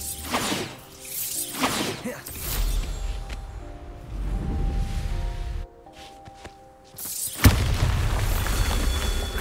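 Repeated booming blasts from the Bombarda spell in Hogwarts Legacy erupt one after another, with whooshing tails, a quieter stretch of rumbling and a sharp, loud blast near the end, with no talking.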